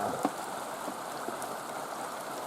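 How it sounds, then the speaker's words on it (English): Steady rain falls continuously outdoors, a soft even hiss of drops with faint scattered patters, quiet and unbroken with no talking. "And now it is raining. And pretty dang steady."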